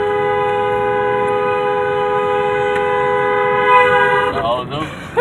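A voice imitates a train, holding a steady horn-like whistle tone with layered pitches for several seconds before breaking off into laughter-like wobbles.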